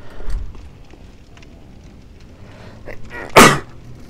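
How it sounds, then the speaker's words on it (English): A single sharp sneeze bursts out near the end, loud and close against a quiet room with faint rustling beforehand. "I need to stop fucking sneezing"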